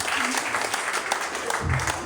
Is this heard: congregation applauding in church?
yes